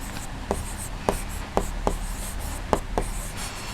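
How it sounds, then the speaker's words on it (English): Pencil sketching a rough rhombus on paper, a series of short scratchy strokes and taps spaced unevenly, close and quiet over faint room noise, with no talk. "So first of all we will draw its rough sketch"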